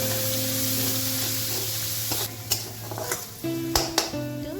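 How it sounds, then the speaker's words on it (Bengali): Coriander and cumin powder with salt fry in a pan in a steady loud sizzle, broken by a few clinks and scrapes of stirring. "হাফ চামচের মতো ধনিয়া গুঁড়ো এবং হাফ চামচের মতো আমি জিরে গুঁড়ো এবং সামান্য নুন দিয়ে মশলাটা আমি কষিয়ে নেব"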